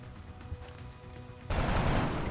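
A single assault rifle shot from a soldier in XCOM: Enemy Within, a sudden loud broadband burst that cuts in after a quiet stretch and holds as a dense roar to the end.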